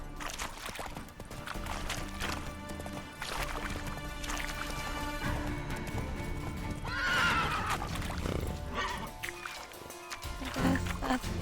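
Horse hooves clip-clopping and a whinnying neigh from the horse in The Witcher 3 video game, steady hoofbeats running throughout over game music and ambience, with the neigh standing out near the middle.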